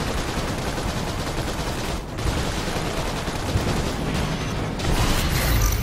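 Sustained assault rifle fire in the Seraph video game, dense rapid bursts of shots filling the whole stretch at a steady loud level with a brief dip partway through.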